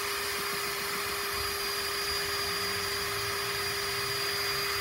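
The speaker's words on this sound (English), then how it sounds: "And then running the drill on low speed." Electric drill spinning at low speed to lap an engine valve against its seat, a continuous steady whine with a constant tone, close and alone, with no speech.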